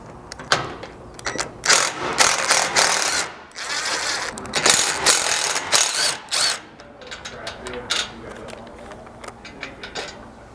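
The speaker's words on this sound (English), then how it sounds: "You're going to need a 15mm socket and a 15mm wrench, and holding from the bottom side with the wrench, you can go ahead and remove each of these bolts." A ratchet wrench with a 15mm socket, backed by a 15mm wrench, removes factory hex bolts during a Polaris Ranger roof rack install. Quick ratcheting clicks come in repeated bursts up close, with metallic clinks between them.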